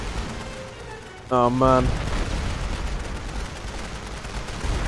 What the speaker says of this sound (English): That's going to be a rolling barrage.